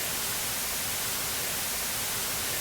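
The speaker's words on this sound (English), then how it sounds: "Here is white noise" A white noise test signal plays at a steady level, a continuous broadband hiss with no variation in rhythm or loudness from start to finish.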